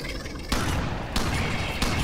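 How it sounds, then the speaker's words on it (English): Shotgun blasts in the sci-fi shooter Alien Swarm: Reactive Drop, three loud broadband shots spaced roughly evenly over a constant roar of combat noise, no talking. "I forgot how fast this shotgun actually is"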